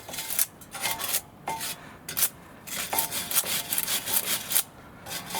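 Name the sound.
cleaning brake dust off Vauxhall Insignia front brake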